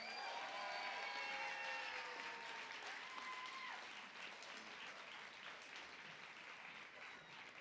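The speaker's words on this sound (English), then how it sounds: "A round of applause for all of them." At a City Year Philadelphia Red Jacket Gala, a large audience gives sustained, dense applause that gradually thins toward the end.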